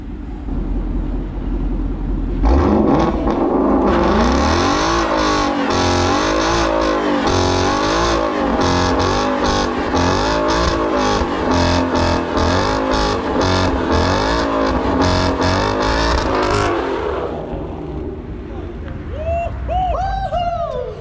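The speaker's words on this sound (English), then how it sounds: "That's how you smoke some tires." A truck at a truck meet does a burnout, its engine roaring loud and steady at high revs for about fifteen seconds as the tires spin and smoke, then the noise cuts out, leaving quieter rumbling afterward.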